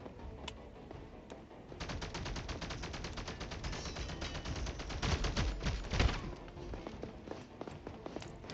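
Rapid automatic gunfire in a shooter video game, a fast continuous rattle of shots lasting several seconds with a louder burst near the end, faint and distant-sounding.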